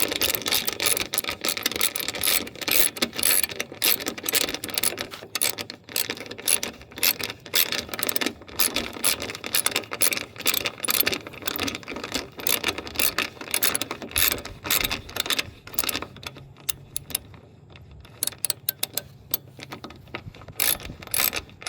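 Rapid ratcheting clicks from a torque wrench on a car's cooling system, running in dense continuous bursts for most of the time, then thinning to sparse isolated clicks near the end; close and fairly loud, no talk.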